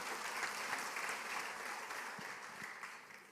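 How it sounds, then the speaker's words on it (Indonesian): Audience applause inside a church during a sermon, a fairly faint, steady wash of clapping that tapers slightly toward the end. "Tepuk tangan dulu."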